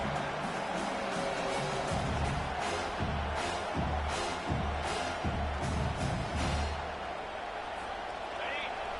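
Stadium crowd in a college football video game rumbles and swells steadily across the whole stretch, loud and continuous, with commentary talk running over the top.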